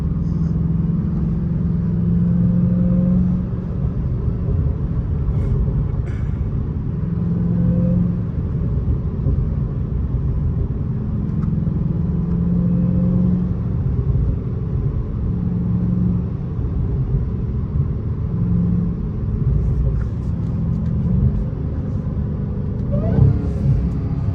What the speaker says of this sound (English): no exhaust, you really hear the supercharger